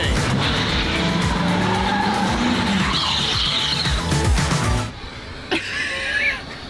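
A car spins out with loud screeching, skidding tires and a roaring engine for about five seconds, then the noise drops away to quieter rattles and a faint squeal.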